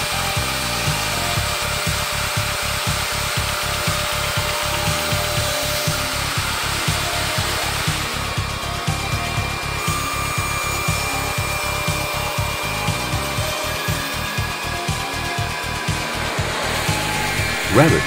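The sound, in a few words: woodworking machine cutting wooden beams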